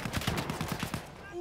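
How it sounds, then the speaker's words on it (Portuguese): Rapid bursts of automatic gunfire in Battlefield 1 Conquest, about eight quick shots in a tight rhythm, then a brief tail of fading noise. "O tiro tá comendo aqui"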